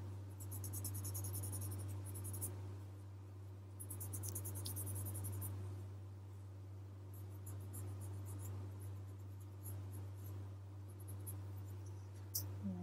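Graphite pencil shading and line strokes on paper while adding depth to a Zentangle drawing, with steady scratchy scraping in bursts, close up and alone over a constant low hum.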